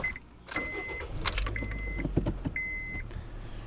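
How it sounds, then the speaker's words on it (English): A towed car's engine left idling through the evening setup at an RV campground, a steady low rumble throughout with a few short electronic beeps and clatters over it. "As you can hear, the car's still on."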